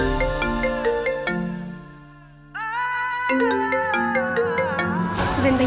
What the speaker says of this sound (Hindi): विन भैया आपका फोन बज रहा है।